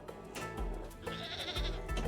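A goat bleats on a Goat Simulator video game pinball table, two or three loud, wavering bleats over electronic table sounds and ringing chimes.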